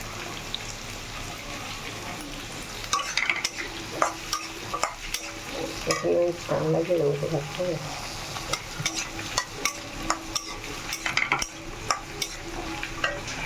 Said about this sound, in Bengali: একটু ভাজা হয়ে গেছে রসুন আর পেঁয়াজটা